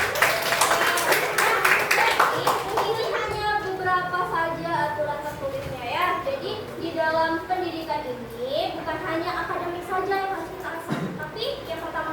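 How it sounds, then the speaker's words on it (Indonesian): A classroom of pupils claps briefly for a classmate at the start, then a teacher's voice and children's chatter carry on over the rest. "Tepuk tangan untuk Rehan dulu."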